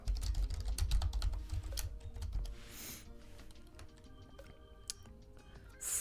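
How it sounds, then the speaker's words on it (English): Computer keyboard typing during a fresh Windows install and Wi-Fi setup: a quick run of light key clicks, close and fairly faint, heard alone over a low hum. "I need to press Control Alt Delete, send keys, Control Alt Delete."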